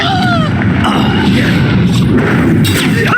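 A Confringo spell explosion in Hogwarts Legacy lands as a heavy boom and crash inside dense, loud combat noise, with a voice briefly audible in the mix.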